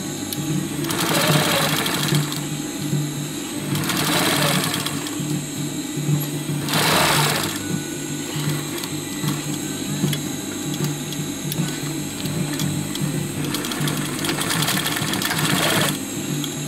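A sewing machine double stitching a backpack seam, a long close run of rapid rhythmic needle whirring with a few louder bursts, steady throughout and without talk.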